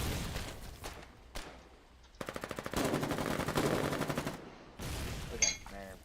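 Video game machine gun fire comes in rapid, loud bursts, first a short rattling string and then a long sustained volley. A second burst follows after a brief break, with scattered explosion-like thuds before and between.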